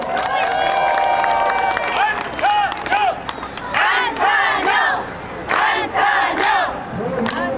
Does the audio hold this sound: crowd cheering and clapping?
yes